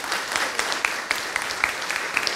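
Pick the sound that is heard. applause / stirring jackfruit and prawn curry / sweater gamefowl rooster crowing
applause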